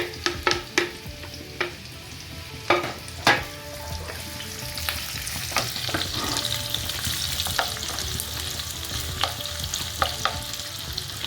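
Onion and green chili frying in a pan, a soft steady sizzle with sharp scraping clicks of a spatula stirring at irregular intervals, fairly quiet and close.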